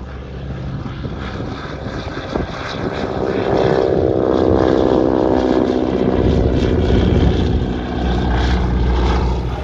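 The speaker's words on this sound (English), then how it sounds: "He's on a biplane and there's a geezer standing on the roof." A propeller biplane flies overhead, its engine drone swelling from moderate to loud and staying strong as it passes close above, with no talk.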